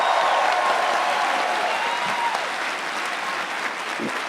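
A university audience at the University of Michigan applauds loudly, a dense continuous clatter of clapping that fades slightly toward the end.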